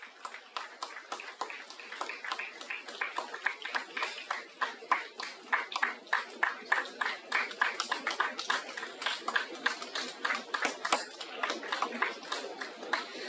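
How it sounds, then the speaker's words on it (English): Audience applause at an HR conclave memento presentation: dense, sustained clapping from a crowd, building slightly and holding steady throughout, fairly close and loud. "Give a big round of applause."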